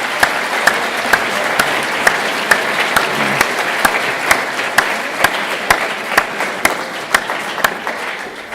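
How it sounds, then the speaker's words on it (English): Audience applause at a youth civics regional finals event, a sustained wash of clapping with a few sharp, evenly spaced claps standing out near the recorder, steady throughout. "giving you all a big round"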